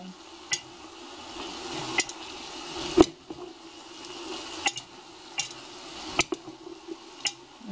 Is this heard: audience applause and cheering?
no